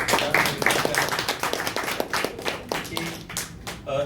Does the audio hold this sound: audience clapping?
yes